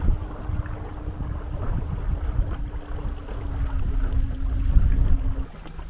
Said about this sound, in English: the wind is kind of blowing us down on the boat